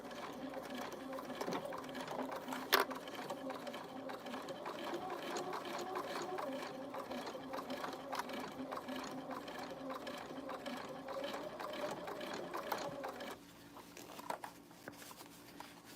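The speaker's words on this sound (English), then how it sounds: "you're going to back stitch at the beginning and the end" A sewing machine back-stitches the base seam of a farmhouse jar mug maker, running steadily and close for most of the stretch before easing off near the end, with a person talking quietly over it.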